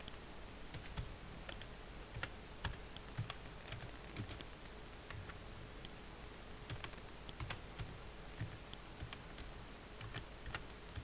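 Quiet, close keystrokes tap on a computer keyboard in an irregular run of clicks over a faint steady background hiss.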